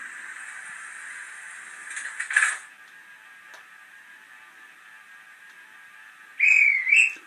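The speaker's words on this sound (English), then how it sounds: "There's the guard's whistle, which is coming out of that train there." A faint steady electronic hum, then a short shrill model train guard's whistle, quiet clicks, and a final two-part shrill whistle blast near the end.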